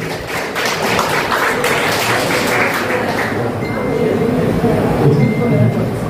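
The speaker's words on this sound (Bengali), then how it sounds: "আমরা ওকে আরেকটু জোরে করতালি দিয়ে উৎসাহিত করি।" Audience clapping at a school memorial and cultural programme held for students killed and injured in an anti-discrimination movement, a busy patter of hands for several seconds before it thins to a murmur of room noise.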